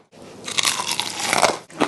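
Biting into crunchy Szechuan pepper fried chicken, a close, loud run of brittle crackling crunches as the crust breaks and is chewed, with no talking.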